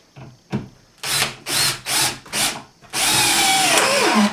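Power drill driving self-tapping decking screws into wood while a stand is being built, heard as four short loud whirring bursts in a steady rhythm, followed by one longer continuous run with the motor winding down near the end.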